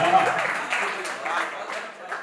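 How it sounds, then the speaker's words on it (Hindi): An audience at a mushaira claps in a steady, diffuse wash of applause, heard somewhat distant and partly under a voice speaking over it. "ये भी बड़ी तालियां बजा रहे हैं"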